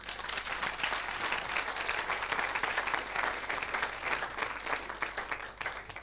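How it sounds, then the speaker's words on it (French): A church congregation bursts into sustained applause and acclamation for the Lord, a dense, steady wash of many hands clapping throughout, loud and close. "Quelqu'un acclame le Seigneur."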